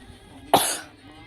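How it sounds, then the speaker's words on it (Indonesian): A single sharp, close cough that bursts abruptly and fades within half a second, over a quiet background. "Jadi aku batuk."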